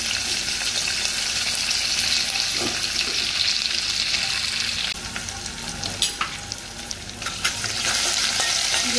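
Curry leaves, cumin seeds and green chillies sizzle loudly in hot oil, a dense close crackle that carries on throughout, with the hiss dipping briefly midway and a few soft stirring knocks.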